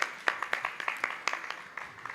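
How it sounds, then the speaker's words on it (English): A round of applause for a presenter returning to her seat at a team presentation event, a small group clapping irregularly with distinct overlapping hand strikes, moderately close and tapering off. "A round of applause to her as she goes back to."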